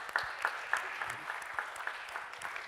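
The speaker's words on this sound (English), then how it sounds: "please give him some applause" Modest audience applause at a tech conference talk on Driverless AI, a fairly faint, thin patter of scattered hands clapping at moderate distance with no voices over it.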